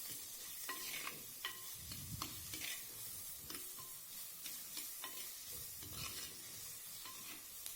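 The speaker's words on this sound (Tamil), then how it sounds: "இதுக்கப்புறம் கட் பண்ணி வச்சுருக்கிற தக்காளி பழத்தை சேர்த்தி நல்லா வதக்கி விடுங்க." Chopped tomatoes sizzle in hot oil while a spoon scrapes and stirs the pan, steady frying with repeated scraping strokes for a vegetable white kurma.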